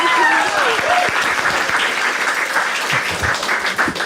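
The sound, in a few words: audience applause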